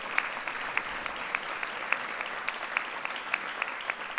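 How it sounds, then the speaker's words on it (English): White House senior staff and guests clap at a swearing-in ceremony, a steady wash of applause from a fairly large crowd heard from a distance, with sharper individual claps standing out. "Come on, give yourselves a round of applause."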